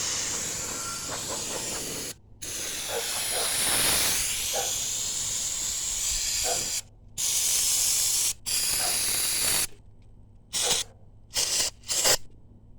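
Long bursts of aerosol brake cleaner hissing steadily into a 1988 GMC 700R4 transmission pan, then several shorter sprays with silent gaps between them, close and loud with no talking.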